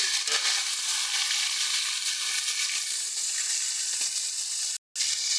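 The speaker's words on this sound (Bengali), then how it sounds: "আর একটা পিঠে আমরা এরকম একটু হালকা কড়া করে ভেজে নিচ্ছি" Pieces of Bhola fish fry in a pan, the second side turning lightly crisp, with a loud, steady, close-up sizzle that runs continuously and breaks off only for a brief instant near the end.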